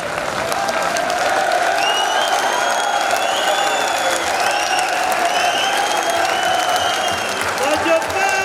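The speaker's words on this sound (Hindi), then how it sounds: "जोरदार तालियां।" Loud, sustained applause from a large crowd at a birthday welcome and felicitation ceremony in Udaipur, steady clapping throughout with some voices mixed in.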